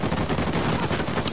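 Uncharted 4 gunfire crackles loud and close as a dense, rapid burst with a heavy low-end thump, filling the whole brief moment with no speech.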